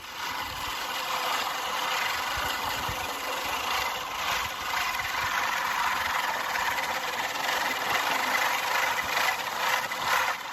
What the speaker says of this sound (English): Time to mow some grass and have a sailing school.